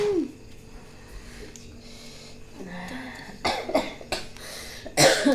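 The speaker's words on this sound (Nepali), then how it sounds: "बल्ल खोकी लाग्ला जस्तो भयो" Several short, sharp coughs come in quick succession near the end, after a stretch of quiet room noise.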